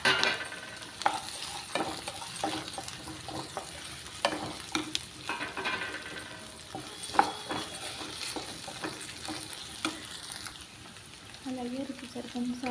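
Taro root and onions frying in hot oil in a pan, with a steady crackling sizzle and repeated scraping stirs of a spoon, close and fairly quiet throughout, without any talking.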